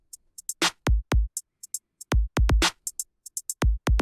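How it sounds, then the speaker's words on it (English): A very simple electronic drum loop programmed in Bitwig Studio with every hit at velocity 100 plays alone, with evenly loud kicks, snares and crisp hi-hat ticks in a dry, mechanical repeating pattern. "I made like the simplest drum loop ever"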